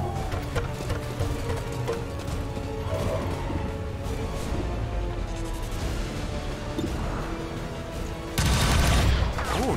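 Weapons firing in XCOM 2 War of the Chosen, modded, a dense run of game gunfire and mechanical clatter playing throughout, growing louder and harsher near the end.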